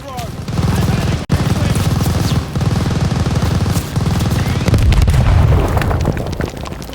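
A tower-mounted machine gun rattles in fast, loud bursts during the June 1944 Operation Tonga fight in Call of Duty: Vanguard, mixed with heavy explosions and booms, while battle noise and possible shouting sit underneath.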